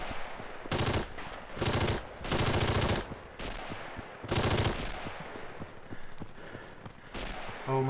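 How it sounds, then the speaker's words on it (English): Loud bursts of machine gun fire ring out in a World War I era video game battle, several sustained volleys separated by short pauses with steady battlefield noise underneath. "Oh, machine gun is covering."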